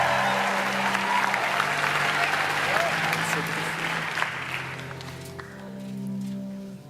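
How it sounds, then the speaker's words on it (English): Audience claps for a poet taking the stage, a sustained wash of applause under a low musical hum that fades out toward the end, with some voices mixed in. "Give him a round of applause."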